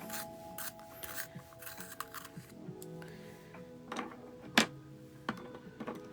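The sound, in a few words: sharpening a colored pencil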